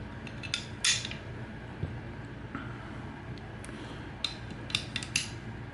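Metal parts of a Marlin Model 60-style semi-auto .22 rifle being refitted, the charging handle and fire control group going back in: scattered light clicks, scrapes and small metallic clinks, close and fairly quiet, with no talking.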